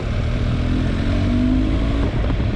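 BMW GS motorcycle engine revving under added throttle, a loud, close, rough exhaust burble that swells briefly during a short burst, with no voices.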